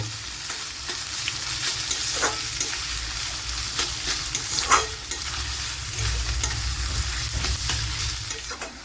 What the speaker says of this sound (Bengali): এই পেঁয়াজটাকে আমি লালচে লালচে করে ভেজে নেব।